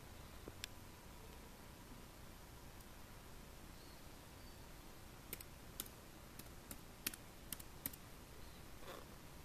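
Someone types on a computer keyboard, entering a username and password: sparse, soft keystrokes at first, then a quicker cluster of light taps later on, all close against steady background hiss with no talking.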